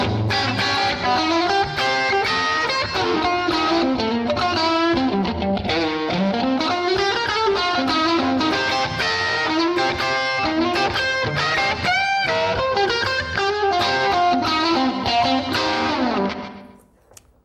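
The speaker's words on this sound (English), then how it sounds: "A nice kind of rockabilly slapback thing going on, and a bit of spring reverb on there" Electric guitar through a POD 2.0 amp modeler with a rockabilly slapback echo and spring reverb, playing a busy, continuous run of twangy picked notes and chords at steady loudness, each trailed by a quick repeat, ending with a fade.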